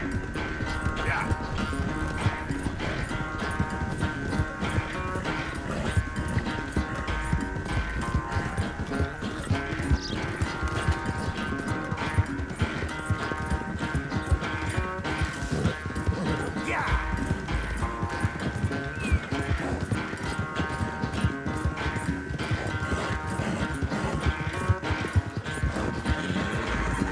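Galloping horse hooves in a race in Red Dead Redemption 2, a steady rapid clip-clop carried under a dense layer of game music and ambience, continuous throughout.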